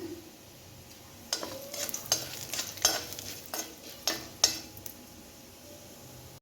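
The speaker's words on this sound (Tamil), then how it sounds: "வெட்டி வச்சு காயை சேர்த்துக்கிடுவோம் இது நல்லா ப்ரௌன் கலருக்கு வரட்டும்" Ridge gourd pieces fry with urad and toor dal in a pan, giving a soft steady sizzle broken by several sharp scraping and clinking stirs of a spoon against the metal, close and fairly quiet.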